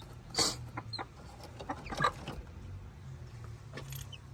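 A protective mother hen with day-old chicks clucks a few short times, faint and close, in a quiet outdoor setting with a low background hum.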